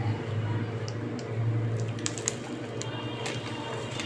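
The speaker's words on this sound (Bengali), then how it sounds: "এগুলোকে এবার আমি ভালো করে চটকে নেবো।" Soft squishing of raw green banana kofta mixture, with a pinch of sugar and gram flour, being mashed by hand, a steady close wet squelch under a low background hum.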